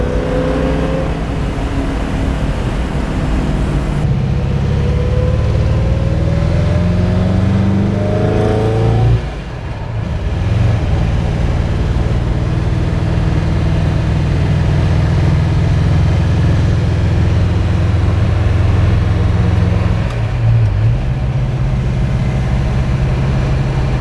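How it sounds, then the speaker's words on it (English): A classic K-code Mustang's 289 high-performance V8 with solid lifters rumbles loudly and steadily up close, revving up and down several times with a deep, throaty roar. "the rest of the engine sounds pretty quiet, but you can just hear those lifters"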